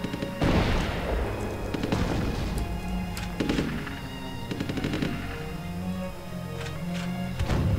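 Soldiers fire in a Cold War battle in the strategy game Rise of Nations, with dense bursts of machine-gun and rifle fire and occasional booms, loud and sustained without pause.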